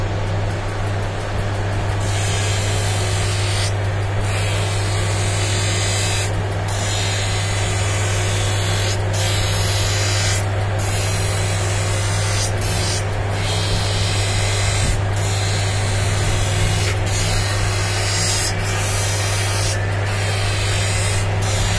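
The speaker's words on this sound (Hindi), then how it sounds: "अब इसको एजिंग करेंगे, इस शेप का बनाएंगे।" Optical lens edging machine grinding a rimless eyeglass lens to shape for an Oakley rimless frame, a steady loud mechanical whir with a low hum and repeated short spraying bursts throughout.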